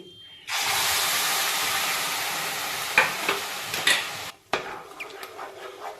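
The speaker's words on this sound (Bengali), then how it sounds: "গাজরটা এইভাবে পাক দেবো" Grated carrot tossed into a hot wok for carrot halwa with semolina and sugar nearby, a loud sustained sizzling hiss that breaks into scraping stirs and clatters, close up with no talk.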